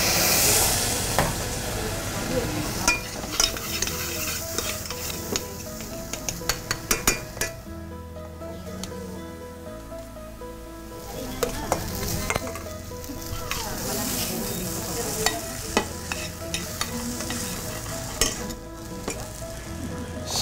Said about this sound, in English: Make hot the oil, add the garlic and onion, little bit wine.